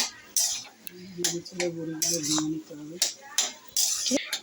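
Fried lentil dumplings (bori) being stirred in a hot pan at home, with repeated metallic scrapes and clinks of a spoon against the pan over a low sizzle while a person talks.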